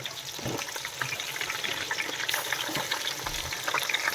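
Ginger garlic paste and coconut paste fry on low heat for home-style mutton biryani, a steady soft sizzle with occasional stirring clatters, close and fairly quiet.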